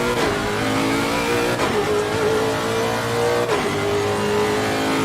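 A race car engine in Assetto Corsa Competizione revs loud and close, holding a steady high drone that dips and climbs again at gear changes, continuous throughout.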